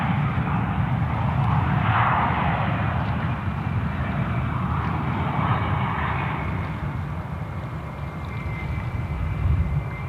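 An Asiana airliner takes off from Sydney Airport, its engines a loud, steady roar that holds throughout and swells briefly before easing slightly toward the end, with no voices over it.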